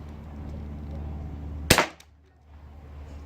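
A single sharp crack from a metal BB gun firing, loud and close, rising out of a steady low background hum and dying away quickly.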